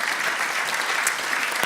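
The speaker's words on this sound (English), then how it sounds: "Let's give Mims a round of applause if that's okay." Applause from an audience at a Sunday gathering: a continuous, even wash of clapping hands, close and fairly loud, with no voices over it.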